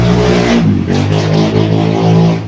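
Loud motorcycle engines revving and passing close outside, a continuous roaring drone with rising and falling throttle surges throughout.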